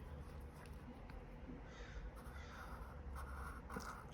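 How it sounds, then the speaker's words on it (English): A crow caws a few times at a distance, faint against a steady outdoor background hiss with no talking. "you guys hear that crow?"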